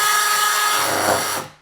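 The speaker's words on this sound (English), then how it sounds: "So let's just drill this out." A power drill with a 7mm bit bores a hole while a wireless burglar alarm is installed, a loud, steady high whine with grinding texture that runs briefly and then winds down and stops.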